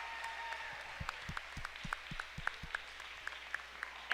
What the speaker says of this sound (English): Please, if you would, join us and give these girls and boys a round of applause.